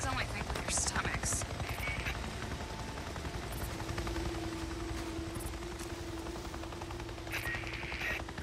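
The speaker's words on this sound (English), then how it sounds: "We got any of those MREs in the chopper?" Helicopter rotor in the video game Days Gone, a steady mechanical drone running throughout under spoken character dialogue, with occasional sharper clicks and bursts.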